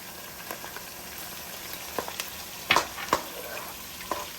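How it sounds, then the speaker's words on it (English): Tomato paste fries in a pot for bean stew, a bubbling sizzle with occasional louder pops and stirring scrapes, close and steady. "allow this to fry for about a minute"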